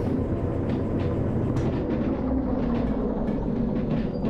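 A train rolling in the railway simulation game Derail Valley, producing a loud, steady rumbling drone that holds evenly throughout, with faint clicks on top.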